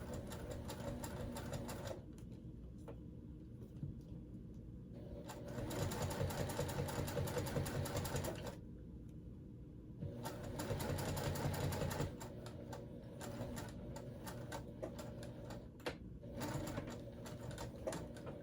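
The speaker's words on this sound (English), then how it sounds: "So I got one side sewed, see that?" A sewing machine stitches a camo and orange water bottle bag, running in bursts of rapid mechanical whirring with short pauses between seams, close and moderately quiet, no talk.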